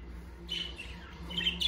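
Budgerigars (budgies) chirping in short, high bursts, a couple of quick tweet sequences close by over a low background hum, with no talking.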